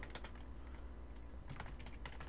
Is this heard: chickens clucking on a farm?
no